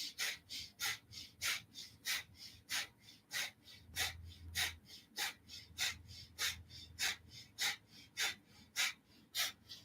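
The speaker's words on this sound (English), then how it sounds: "And begin breath of fire here." Rapid, rhythmic breath-of-fire exhalations during a Kundalini yoga session, about two sharp forceful pumps per second, close and steady throughout with no talking.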